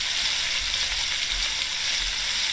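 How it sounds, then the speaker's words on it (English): A burger patty sizzles in a pan on a stovetop, a loud, steady crackling hiss of frying fat close to the mic, with faint low thumps underneath and no talking. "Sizzling."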